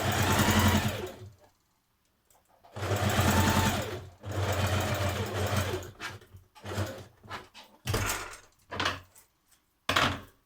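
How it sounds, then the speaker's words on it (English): Domestic sewing machine stitching darts into a lightweight top, running in several bursts of steady whirring with short pauses between, close and clear with no talk. "So I've got my darts here on either side, so I thought I'd keep those from the existing pattern. So sew those in first of all."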